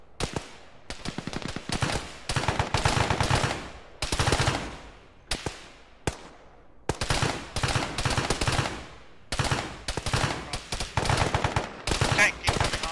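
Gunfire in a military video game: repeated sharp shots and rapid bursts, some near and loud and others more distant, rattling through the whole stretch with short gaps between volleys.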